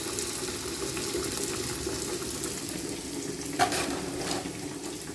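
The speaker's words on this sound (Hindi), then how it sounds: "ये बन रहे हैं जी अपने बटूरू तेल वाले" Batooru bread frying in oil at a cultural festival in Kullu, Himachal, a steady close hiss and bubbling sizzle with a brief splash-like pop partway through.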